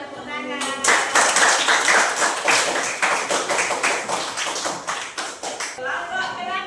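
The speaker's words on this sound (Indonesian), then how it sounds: "tepuk tangan" A small classroom group claps in quick, distinct rapid hand claps that build, hold and fade slightly, with a voice talking before and after.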